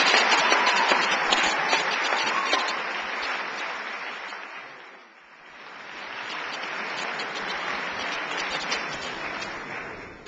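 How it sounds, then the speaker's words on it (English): Sustained applause from an audience at a 2008 awards ceremony honoring student athletes, a steady broadband clapping that dips briefly in the middle before swelling again, with no voices over it. "Let's give Samia Hunter a nice round of applause."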